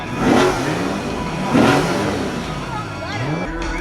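A Dodge Hellcat engine on a dyno revs twice in loud, close surges and then settles to a rumbling idle, while people talk over it.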